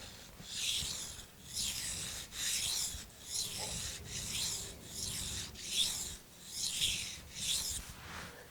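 A knife blade pushed with firm pressure across a coarse waterstone, about eight rhythmic rasping strokes in a steady back-and-forth pattern, close and fairly quiet with no talking.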